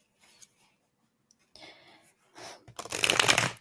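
A deck of tarot cards being shuffled, with a few soft scattered riffles that build into a loud, dense burst of card flutter toward the end, heard up close.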